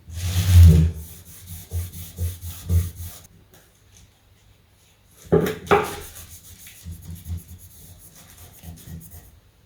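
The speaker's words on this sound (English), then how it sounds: "I'm using clear wax to help me out with the black wax." Clear and black wax rubbed by hand onto painted furniture, dry scrubbing strokes in two bursts separated by a quiet pause, close and fairly loud.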